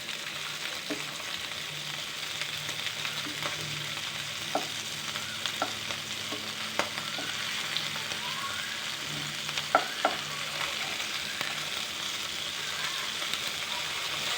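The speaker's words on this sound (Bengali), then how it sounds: "সুরমা মাছ ভেজে নিচ্ছি কতগুলো" Surma sea fish frying in oil in a pan, a steady dense sizzle with occasional louder pops and crackles throughout, close and continuous with no talk.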